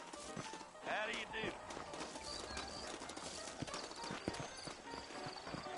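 Horses clip-clopping along at a trot in the Red Dead Redemption game world, hooves steady and fairly close, mixed under a voice talking, background music and scattered ambient game sounds.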